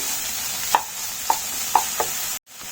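Figs roasting with sugar in a pan for the Himachali dish Fagadi, with a few soft, spaced scraping or stirring knocks over a faint steady background hiss, then a brief cut to near silence.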